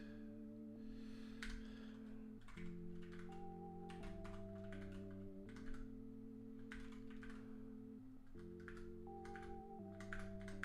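Quick clicks of typing on a computer keyboard, light and irregular, sitting beneath steady chord-based background music.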